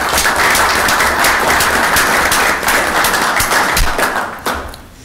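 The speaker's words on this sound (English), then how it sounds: "I'm going to give you a round of applause." Applause at a city council meeting honoring commissioners: loud, dense clapping from the room close to the microphone, sustained evenly and then tapering off at the end.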